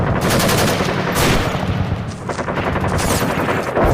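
Police fire on a long-toothed beast in a film scene, a rapid burst of loud overlapping gunshots and sustained automatic fire crackling through the whole stretch.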